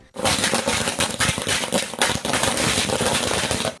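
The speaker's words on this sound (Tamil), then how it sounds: "பட்டாசு வெடித்து திருவிழாவை போல் கொண்டாடி மகிழ்ந்தனர்" Firecrackers burst in rapid, dense strings at a village celebration, a loud, continuous crackling barrage with sharp pops running for several seconds before cutting off.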